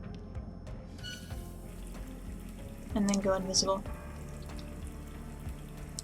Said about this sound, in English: Alright, well let's turn this faucet on.